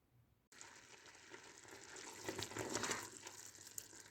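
Damson plums simmer in a pot for marmalade, a faint bubbling and hissing that starts abruptly after a brief silence and slowly builds, with soft pops near the end.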